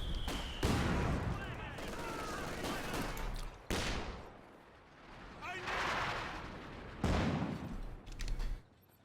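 Vickers machine gun fire in the real-time strategy game Company of Heroes 2, a 2v2 match, with rapid rattling bursts and heavy battle booms that recur loudly through the scene, mixed under a commentator's steady talk.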